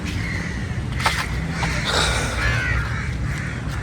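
Crows by a lakeside on a morning as a man scatters grain for the birds, a few harsh caws rising over a steady low background rumble in a short burst of activity.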